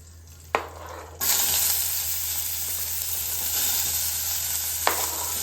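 Onions sizzle and crackle steadily as they fry in a hot pan at home, with a couple of sharp clinks as they drop in and a strong, continuous frying hiss filling the sound up close.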